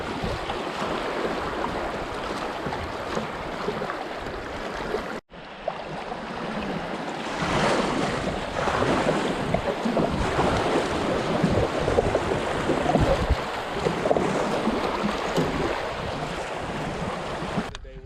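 A Vibe Seaghost 130 fishing kayak runs Ozark river rapids, with continuous loud rushing water and wind buffeting the microphone, a brief dropout near five seconds, then sustained churning whitewater.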